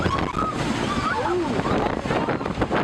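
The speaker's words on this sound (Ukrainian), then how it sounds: "тому що вітер мега шалений вітер" Heavy, roaring wind buffets the microphone in an open field without letup, a dense rumbling wash with faint voices buried beneath it.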